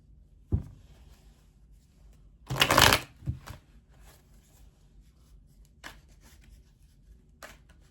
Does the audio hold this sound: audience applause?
no